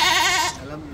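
Osmanabadi goats at a busy Mumbai goat market bleat in one close, wavering, tremulous call that fades midway into a lower trailing note.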